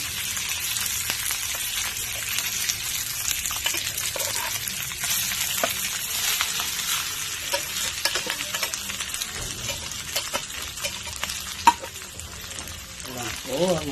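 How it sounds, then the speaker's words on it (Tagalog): Rice tossed into a hot pan with garlic sizzles steadily for the whole stretch, with frequent scraping and stirring clicks of the spatula close up, one sharper knock near the end. "Ayun po, ilagay na po natin yung kanin."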